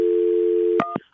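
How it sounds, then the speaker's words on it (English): An outgoing telephone call produces a steady continuous ringback tone, close and clear, that cuts off abruptly, followed by two brief clicks or tones as the line connects. "Jacqueline, hang on, it's ringing"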